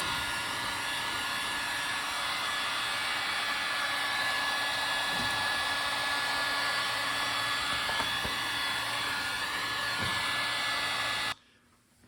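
A heat gun blows a steady, loud, even whoosh onto the rubber fuel rail line of a 1995 Bronco, running alone for about eleven seconds before cutting off abruptly.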